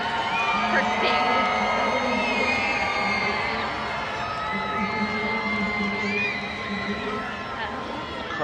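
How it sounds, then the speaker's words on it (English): Crowd cheering and shouting at a women's ultimate frisbee game, a sustained roar with whoops and excited voices mixed in, steady and fairly loud throughout. "The crowd is going crazy on the other side."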